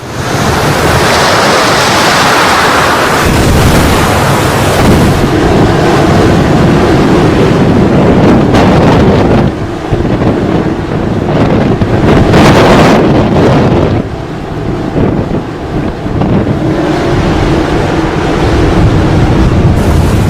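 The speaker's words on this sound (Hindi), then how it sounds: "आंध्र प्रदेश, तमिलनाडु, जहां ऊंची ऊंची लहरें उठ रही।" High ocean waves crash and roar along the Andhra Pradesh and Tamil Nadu coast during Cyclone Ditwah, with strong gusting wind buffeting the microphone in a loud, continuous wash of surf and no voices.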